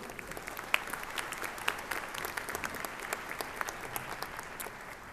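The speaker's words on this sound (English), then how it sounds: "please join me with a round of applause for the UT Pan American Brass Choir" A commencement crowd applauds a university brass choir, the clapping soft and somewhat distant, a steady patter with a few sharper individual claps standing out.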